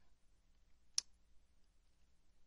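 A single faint, sharp mouse click in the Westlaw legal research service, alone against near silence.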